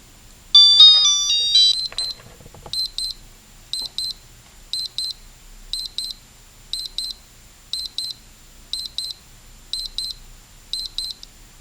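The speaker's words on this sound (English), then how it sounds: "And that was a regular alarm signal." An Electronika 5 USSR digital watch: a quick high electronic melody chirps, then a tiny beeping alarm repeats in paired bursts about once a second, thin and steady.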